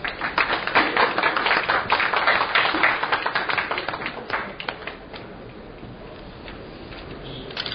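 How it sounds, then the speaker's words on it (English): An audience at an academic conference claps in a dense, lively burst of applause that gradually thins and fades toward a quieter patter. "Please give a big round of applause."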